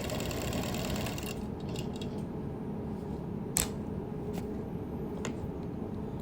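A sewing machine quilts down appliqué on a hand-pieced hexagon quilt, running in a fast steady whir with a few sharp clicks, heard close and alone.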